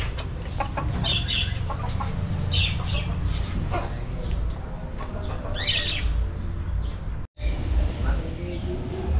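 Native chickens cluck and call in an outdoor yard, with short bird chirps from lovebirds scattered over steady background noise, moderately near and continuous.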